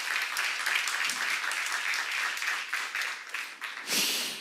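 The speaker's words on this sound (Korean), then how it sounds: "박수를 하세요." A church congregation claps together at a sermon seminar, a dense continuous burst of applause for several seconds that fades briefly before a final swell, without speech.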